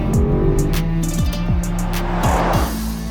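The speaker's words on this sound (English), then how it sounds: "pop the car into dynamic mode and then you notice the difference. It's a lot louder" A 2023 Range Rover Sport V8 in dynamic mode revs through several quick gear changes, its engine note repeatedly climbing and dropping, loud and close.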